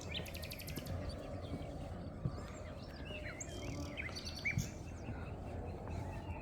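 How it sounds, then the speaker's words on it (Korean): Birds chirp and sing in a dense forest, scattered calls over a steady background of insects and ambient hum, moderately distant. "새소리도 너무 잘 들리고 완전 숲이에요, 숲"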